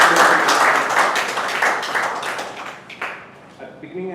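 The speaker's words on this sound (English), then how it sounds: "give him a huge round of applause for completing his project" A Toastmasters meeting audience gives a round of applause after a member completes his speech project, a dense, steady wash of many hands clapping that thins toward the end.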